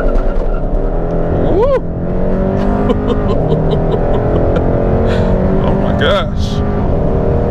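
A 2022 Hyundai Sonata N Line launching from a standstill under launch control, engine roaring up through the revs as the tires squeal loudly, heard from inside the car with a person exclaiming over it.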